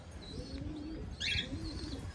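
Pigeons coo softly in low, rolling murmurs, with a brief higher chirp in the middle, heard fairly close against a quiet outdoor background under a cloudy, stormy morning sky.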